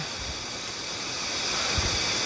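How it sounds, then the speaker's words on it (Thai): Mae Sa waterfall in Chiang Mai, Thailand, a steady broadband rush of falling water, constant and fairly loud, with a few faint low thumps. "ที่น้ำตกแม่สา จังหวัดเชียงใหม่ นู่นครับนู่นครับนู่นครับน้ำตกครับผม"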